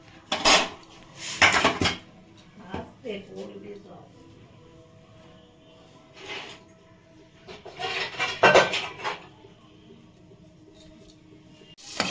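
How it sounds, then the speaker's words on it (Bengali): Someone washes a hot kadai (wok) after frying, with loud bursts of metal scraping and clattering, a couple of near clanks early, and quieter rattling between, some talk alongside. "ভাজার পরে কিন্তু কড়াইটা আমরা ভালো করে ধুয়ে নেব"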